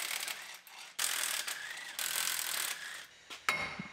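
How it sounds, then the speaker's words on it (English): Ratchet clicking as it unbolts the wheel hub on a rolled-over Chevrolet Silverado, in fast ratcheting bursts separated by brief pauses, close and fairly loud with no talking. "And we can unbolt our wheel hub."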